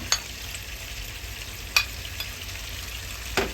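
Pork hitting a hot pan for a homestyle Thai tomato and egg stir-fry gives a soft, steady sizzle, with three sharp clinks of a utensil against the pan spaced evenly through it.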